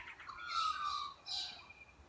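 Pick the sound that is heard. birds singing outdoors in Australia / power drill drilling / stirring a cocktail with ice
birds singing outdoors in Australia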